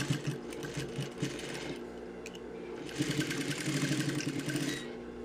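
A sewing machine stitches a trouser waistband with a steady mechanical whir and rapid needle clatter, briefly pausing before running again more strongly, close up with no talking.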